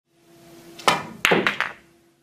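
A pool cue strikes the cue ball with a sharp wooden knock, followed by a few quick hard clacks of balls colliding, all close and clear over a quiet room.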